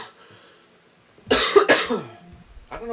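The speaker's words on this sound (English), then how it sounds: "I don't know why I'm coughing" A single sharp cough bursts out close to the mic, followed by a brief throat noise and then quiet, during a game livestream.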